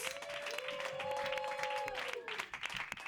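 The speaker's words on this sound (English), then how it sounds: "we'll start clapping right now for JJ Arias." A comedy roast battle crowd in New York applauds steadily, a moderate wash of clapping that runs through the moment with a voice talking over it.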